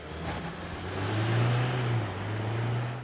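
A 2025 GWM Cannon pickup truck launches hard from a standstill, its engine note climbing steadily into a loud, sustained acceleration roar that swells mid-run and then settles slightly, with no talking over it.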